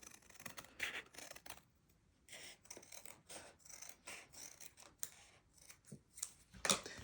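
Scissors snip along the top edge of sewn boho fabric while making a collaged envelope: a close run of short, crisp cuts in uneven bursts with brief pauses, and no talking.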